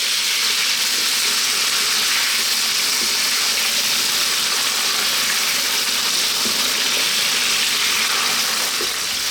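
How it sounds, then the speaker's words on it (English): Potatoes fry in a pan for a potato chickpea curry, giving a steady, loud sizzle and hiss that holds evenly throughout with no talking. "We're now going to add our potatoes. And we're going to fry these around for about 4 minutes."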